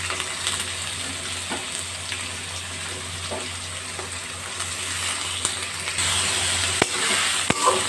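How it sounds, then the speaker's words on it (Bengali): Steady sizzling of carrots, beans and capsicum frying in a pan, with occasional scrapes and taps of a spoon stirring, close and continuous. "সবজিগুলো ভালো করে ভেজে নেব"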